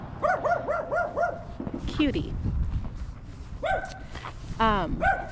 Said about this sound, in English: There's a little doggy behind this fence barking at me.